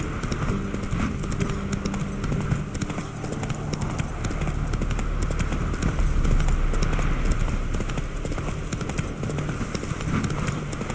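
Horse galloping in The Witcher 3, a steady rapid clip-clop of hooves running continuously and loud throughout, with no talk over it.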